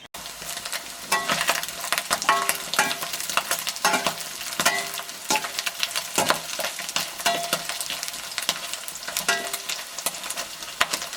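Pre-cooked beef frying in a pan under steady stirring, a continuous close sizzle broken by repeated scraping and clinking strokes of the spoon at an uneven rhythm throughout, with no talking.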